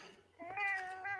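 A house cat meows once, close to the microphone beside a laptop, giving a short, rising, tonal call that sustains for about a second over quiet background noise.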